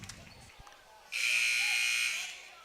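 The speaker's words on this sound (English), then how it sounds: "And the buzzer sounded." Basketball game buzzer at a girls' high school game, one loud steady electronic buzz lasting about a second in a quiet gym.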